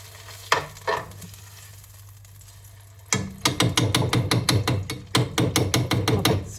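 Red curry paste frying in oil for a hoki Thai curry: a steady sizzle with two sharp knocks early on, then a rapid run of close, rhythmic scraping stirs against the pan.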